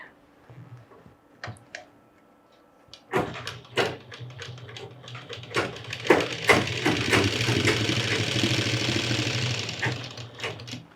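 A sewing machine stitches the bottom hem of a box-pleated skirt, starting with scattered clicks and short bursts, then settling into a continuous, fairly loud mechanical run close by.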